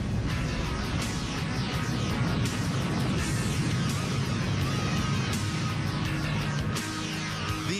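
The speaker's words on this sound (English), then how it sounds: "Finally, they explode in this incredible blast." A tanker train explosion: a sustained, roaring rumble with dense crackling fills the whole stretch, loud and unbroken like a massive ongoing blast.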